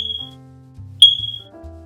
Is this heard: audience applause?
no